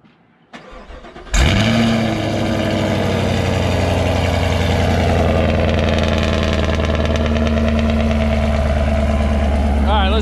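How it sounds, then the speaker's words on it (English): A 2019 Chevrolet Camaro SS V8 with a 10-speed transmission cold-starts close by: a short starter crank, then a loud catch and flare before it settles into a deep, steady, rumbling high idle that holds to the end. "So let's try to give you a little cold start."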